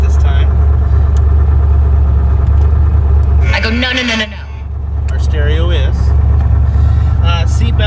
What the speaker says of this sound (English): And as we pull out,